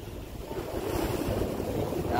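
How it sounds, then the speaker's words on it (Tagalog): Big ocean waves surge and wash in a continuous roar heard from a boat at sea in strong wind, with heavy wind buffeting on the microphone and no talking. "Oh, grabing alon."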